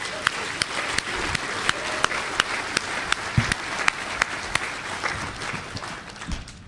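An audience at the DEFCON hacker conference applauds, with continuous clapping spread through a room and sharp, regularly spaced nearby claps standing out, moderately loud, sustained for several seconds without speech.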